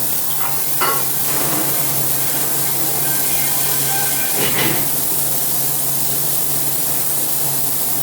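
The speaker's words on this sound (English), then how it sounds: "We'll give them a rinse for you to show how quickly they came clean." Water sprayed over plates just cleaned of soot during a rinse, a steady broadband rushing hiss lasting about eight seconds, with a couple of brief louder splashes near the start and middle.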